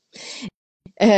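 A single short sneeze bursts out alone, followed by a brief pause and a catch of breath before a voice starts talking.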